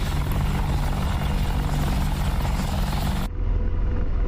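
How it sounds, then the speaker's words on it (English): An AH-64 Apache helicopter in the DCS flight simulator roars loudly and continuously with rotor and engine, then the sound abruptly cuts to a duller, muffled version of the same drone. "that is a very intimidating looking helicopter"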